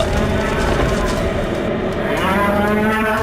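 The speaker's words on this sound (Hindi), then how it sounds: "जैसे ही उसने वीर की तरफ देखा तो चिंघाड़ते हुए वीर पर अटैक कर दिया" A creature with a bull's upper body and a horse's lower body gives a loud, sustained bellowing roar as it attacks, a cattle-like lowing that carries unbroken through the whole stretch.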